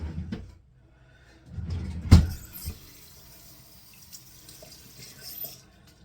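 Water runs from a bathroom sink tap for washing the face, with a sharp knock and some handling clatter near the start, then a soft, steady trickle. Nobody speaks.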